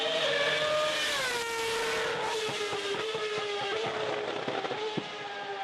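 A Williams Formula One car screams down the straight, its high, loud engine whine climbing through gears with rapid shifts and crackles, close by.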